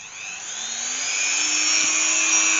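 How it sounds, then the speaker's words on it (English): A Dremel rotary tool whines steadily while carving into an oak fruit bowl turned from a wind-blown tree, its high, constant buzz growing slightly louder with a faint lower hum beneath, heard alone without speech. "Now what I intend to do is just use my Dremel"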